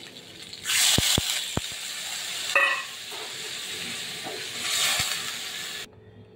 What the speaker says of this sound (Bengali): জল টেনে গেছে, এবার আমি দিয়ে দেবো জল